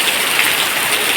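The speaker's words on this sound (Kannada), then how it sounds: "ಜೋರು ಮಳೆ." Heavy rain pouring down in a dense, steady hiss, loud and close, with no voices.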